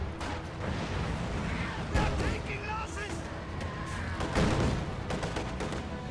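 Mortar rounds thud and burst in a World War II strategy game, several muffled explosions scattered among gunfire under continuous talk.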